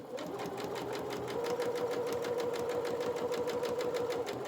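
A sewing machine stitches a bunny treat bag in one steady, continuous run, with a rapid, even mechanical rhythm up close.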